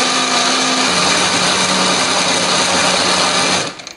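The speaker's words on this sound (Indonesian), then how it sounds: "semua bahan ini akan kita haluskan ya, termasuk lengkuasnya akan kita haluskan" A blender grinding spice paste with galangal and a little water whirs loudly and steadily for several seconds, then cuts off abruptly near the end.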